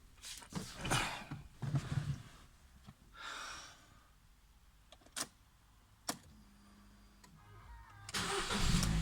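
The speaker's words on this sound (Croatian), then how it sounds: "idemo upaliti auto" A Ford Focus MK2 with a 1.6 Duratec engine, just serviced with fresh oil and filter, is cranked and starts near the end, preceded by quiet clunks and handling noises in a garage.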